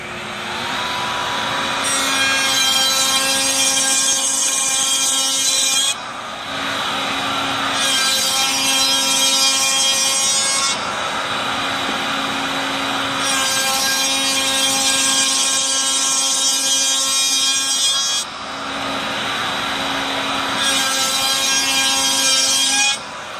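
An Evans Rotork 1040 T-moulding machine cuts a kerf into thermofused laminate, a loud steady power-tool whine with sawing texture that runs in four long passes separated by brief dips, with no voices.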